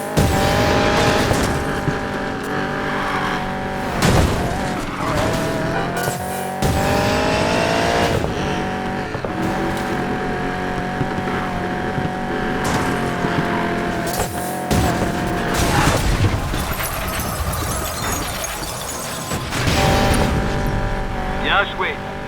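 Cars race in a video game with screeching tire squeals and revving engines in repeated bursts and skids, while people speak over the action.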